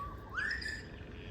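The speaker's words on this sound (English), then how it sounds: "The birds are chirping, so hopefully you can hear me." A single bird in a Melbourne garden on an autumn early morning gives one bright rising chirp, slightly distant and alone against quiet background hiss.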